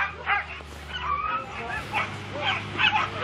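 Sled dogs at the start of a race stage yip and whine in excited, rising bursts, several dogs overlapping over a steady low engine-like hum, with a commentator speaking in the background.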